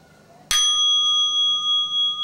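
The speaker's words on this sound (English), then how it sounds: "So somebody will ring this bell." A mindfulness bell, also called a friendly bell, struck once with a sharp attack and then left ringing in a long, clear, slowly pulsing tone that fades gently in a quiet room.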